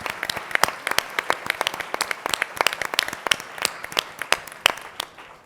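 An audience at a business symposium claps in scattered, uneven bursts, a modest crowd close by with no voices over it.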